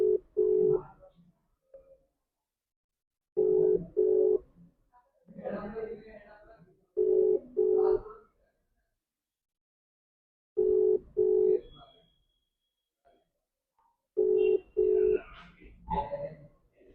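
An outgoing phone call rings unanswered on the line: repeated double-pulse ringback tones at regular intervals, each pair followed by a pause, with a voice talking in some of the gaps.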